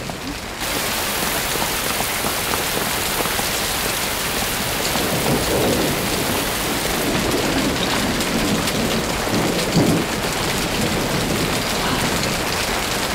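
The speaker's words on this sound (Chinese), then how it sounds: "下雨了" Heavy rain pours steadily and loudly on surfaces while thunder rumbles beneath it. The downpour runs continuously for the whole stretch, with no talking.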